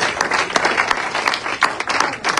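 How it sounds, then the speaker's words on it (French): Congregation applause during a church sermon, lively clapping with distinct sharp claps standing out from the crowd, uneven and moderately loud. "Let's clap in the name of Jesus."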